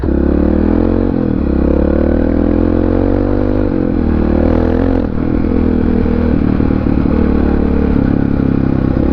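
A 650R motorcycle with a dead battery runs loud and close, kept revving to stop it stalling, its revs rising and falling unevenly with some clattering throughout.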